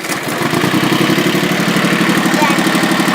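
A tractor engine fires up and settles into a steady, loud, close idle with an even low chugging pulse that runs throughout.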